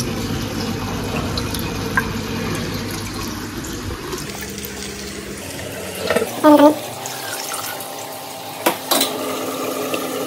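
Water rushes steadily into a budget aquarium being set up for Oscar fish, a broad hiss that fades out midway, followed by a few brief clinks and knocks in a quieter room.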